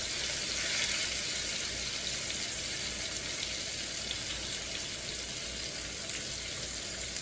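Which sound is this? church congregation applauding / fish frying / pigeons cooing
fish frying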